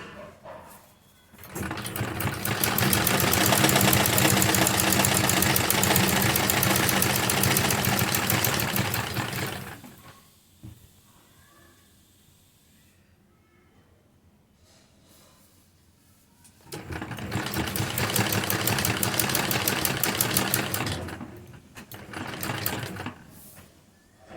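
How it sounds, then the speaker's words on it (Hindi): Sewing machine stitching along the hem edge of a salwar, two long runs of fast, steady mechanical whirring separated by a quiet pause, close and loud, with no talking. "इस तरह से दूसरी किनारे पर भी हम सिलाई लगा लेंगे सीधी।"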